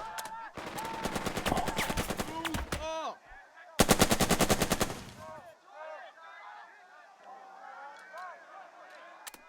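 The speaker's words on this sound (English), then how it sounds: "Let the machine gun fire alone." Bursts of machine gun fire from the WW2 tactical game Burden of Command, two dense rapid volleys a second or so apart, each rattling loudly, then quieter scattered shots as a voice talks over the fighting.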